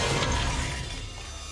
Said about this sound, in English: I smashed my heavy cast iron plate right into the front of my glass oven.